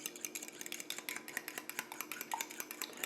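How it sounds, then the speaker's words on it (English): Eggs are whisked in a bowl, a quick rhythmic series of light metallic clicks and taps from the whisk against the bowl, close and fairly quiet. "You can see that whisking action there"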